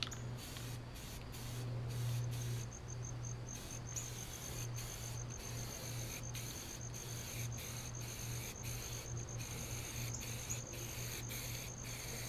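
Spray paint hisses steadily as a final coat goes onto rocker mouldings for a 1966 Ford Galaxie 500 convertible, a quiet continuous spray broken by brief regular pauses, with a low hum beneath.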